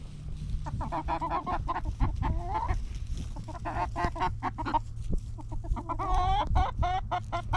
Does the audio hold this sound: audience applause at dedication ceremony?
no